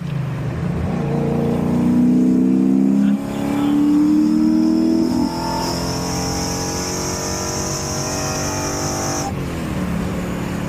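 Drift-built Nissan S13 with an individual-throttle-body 1UZ V8 swap, on a tuning pull: loud, steady engine drone with rising harmonics through most of the clip, then easing off near the end.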